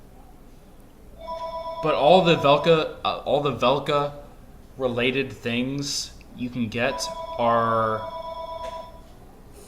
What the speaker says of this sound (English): And that is my phone interrupting me at the last possible second.